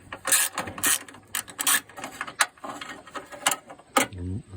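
Ratchet wrench working a 10mm bolt loose on a 4th gen Camaro, rapid close clicking bursts of the pawl with short pauses and a few metallic knocks between strokes.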